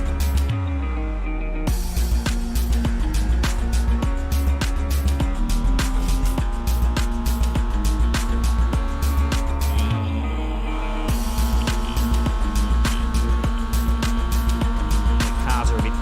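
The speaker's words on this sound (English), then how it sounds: "Cars are a bit quiet, so I've got to add some volume to it." Race cars in the iRacing sim howl through gear changes, rising engine whines repeatedly dropping and climbing again in rhythmic shifts, fairly quiet and continuous over the whole stretch.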